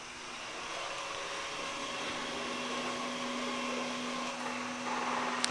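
A Samsung Powerbot R7040 robot vacuum cleaner runs with a steady, moderately loud whirring drone and a constant motor hum, heard on its own with no talking.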